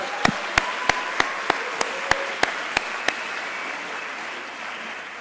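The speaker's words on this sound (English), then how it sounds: "Let's give our student speakers another round of applause, please." At an IE Masters graduation ceremony, an audience applauds student speakers with a soft, steady wash of clapping, while about ten sharp, evenly spaced nearby claps stand out before stopping around three seconds in.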